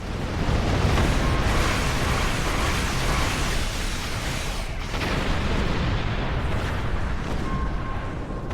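Turrets fire amid a dense wash of explosions in the Star Trek Online space game, a loud continuous rumble and crackle of combat effects with no talk over it.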